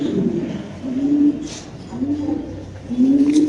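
Spanish helmet pigeons cooing close by in a few low, rolling, repeated calls, with faint background noise and no clear talk.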